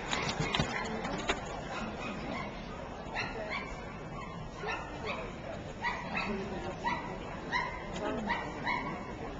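Dogs yip and bark repeatedly at ringside during a dog show, short sharp calls recurring throughout over a busy crowd with people talking nearby.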